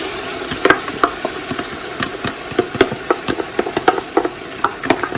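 Onions frying with ginger garlic paste, coriander, green chilies and mint for mutton biryani, a steady sizzle broken by frequent sharp spoon scrapes and clanks against the pan, close and fairly loud.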